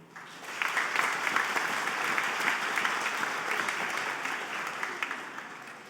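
A church congregation gives sustained, even applause for the priest, steady and fairly close, with no talking over it.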